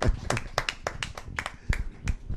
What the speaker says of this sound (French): sur le plateau, on applaudit très fort la managère